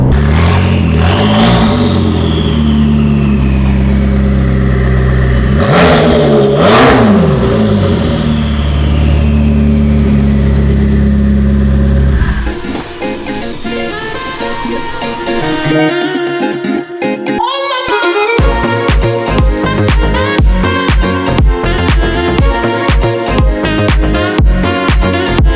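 A McLaren on a 1,000 horsepower turbo tune revs hard in close, loud rising and falling sweeps for about half the span, then gives way to dense, busy sound.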